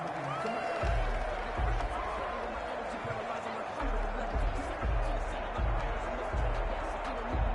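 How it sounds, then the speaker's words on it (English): A loud home stadium crowd at an NFL regular-season game, Kansas City Chiefs at Baltimore Ravens, keeps up a dense, steady roar throughout, with a voice faintly audible over it. "The crowd's not doing that O-line any favors. Home field advantage is really kicking in, making it very difficult for them to hear the snap count."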